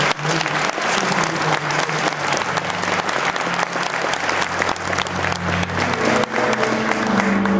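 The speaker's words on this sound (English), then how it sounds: "we certainly would love for you all to applaud the contributions that Randall Ferguson made" An audience at an awards ceremony applauds with dense, sustained clapping that stays loud throughout, with faint crowd murmur underneath.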